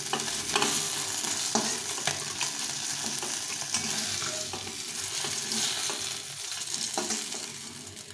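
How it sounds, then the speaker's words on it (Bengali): Shol fish (snakehead) frying in hot oil in a pan for a spicy curry, a steady loud sizzle with occasional stirring clatters running throughout, no talk. "এই মাছগুলো সব ভেজে নিয়েছি"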